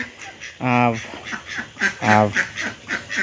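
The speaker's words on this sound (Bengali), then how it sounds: "এই যে বড় হাঁসগুলো আসছে এখানে" Large ducks give two loud, close, rasping quacks, followed by a string of softer, shorter calls from the flock nearby.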